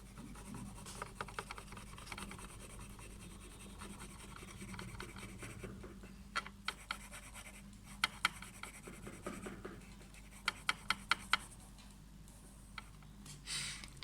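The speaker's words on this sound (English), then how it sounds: "So we will shade it." Pencil shading a doodle drawing on paper, a faint continuous scratchy rubbing with scattered quick tapping strokes, heard close up and alone.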